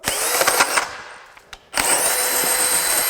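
A DEWALT 20V hammer drill, model DCD1007, bores a hole at close range, its loud whine cutting out briefly mid-run before resuming steadily at full power.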